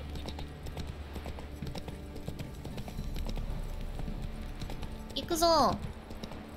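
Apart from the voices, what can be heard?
horse Roach galloping, hooves clip-clopping, from a video game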